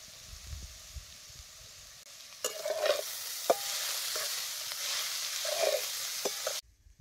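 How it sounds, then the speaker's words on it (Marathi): Shredded cabbage and chutney turned over in hot oil in a pan, a low sizzle rising midway with a few distinct spatula scrapes and knocks, then cutting off abruptly near the end. "चटणी टाकल्यावर जरा कोबीज तेलात खालवर करायचं"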